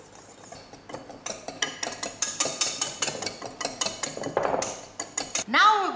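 Dry ingredients of flour, baking soda, baking powder and salt whisked in a bowl, giving a rapid, steady run of close metallic clinks and scrapes, with a brief louder rustle near the end.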